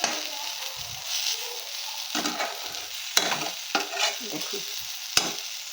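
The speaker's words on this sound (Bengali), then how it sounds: "দেখুন বন্ধুরা কীভাবে ভেজে নিচ্ছি।" Food frying in a pan with a steady sizzle, broken by occasional sharp clinks and scraping stirs; a single brief spoken word is heard near the start.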